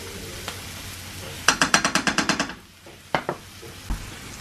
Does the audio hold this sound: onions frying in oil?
yes